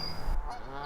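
A Canada goose gives a single short honk outdoors during a nature walk, heard alone against light background noise.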